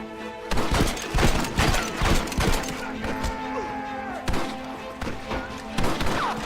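Gunfire in a Red Dead Redemption shootout: loud, rapid, overlapping shots and booming thuds repeating across the whole stretch, dense and close, with shouted voices mixed in.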